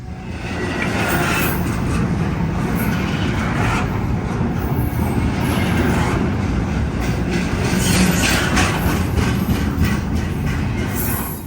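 A freight train rolls slowly past in Greenville, South Carolina, loud and close, with a continuous heavy rumble, rhythmic wheel clatter and faint metallic squeals throughout.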